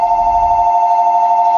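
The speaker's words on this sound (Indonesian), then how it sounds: "suara alarm dan dering telepon pun mengejutkannya" Telephone ring and alarm in the horror film Smile (2022), a loud continuous electronic tone held steady, with brief low rumble at the start.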